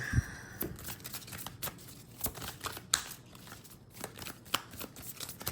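Tarot cards being shuffled and drawn by hand, giving a run of crisp riffling flicks and soft card snaps at close range, with no voices over them.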